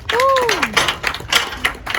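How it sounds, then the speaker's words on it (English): Scattered clapping from a small audience at a powerlifting session, a few close, irregular claps over about two seconds, with a brief voice or whistle-like tone near the start. "Everybody give him a round of applause"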